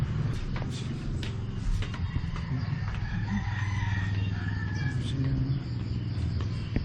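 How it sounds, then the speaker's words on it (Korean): A rooster crows near a hostel in Moalboal, its call rising over steady low traffic and ambient street noise, with a few more distant bird calls scattered through. "조용하다는데 닭이 울네요."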